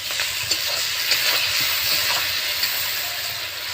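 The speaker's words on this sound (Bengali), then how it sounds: "টমেটোটা আর পেঁয়াজটা খুব ভালো করে কষিয়ে নিয়েছি ভেজে নিয়েছি" Tomato and onion sizzle hard in a hot pan alongside small fish, a dense continuous hiss with soft scraping from stirring, close and alone.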